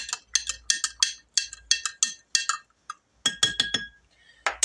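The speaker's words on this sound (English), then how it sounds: "Okay, so let's stir that up." Eggs with dill being stirred in a glass container, a quick run of close, bright clinking taps in irregular bursts with brief pauses between, no talk.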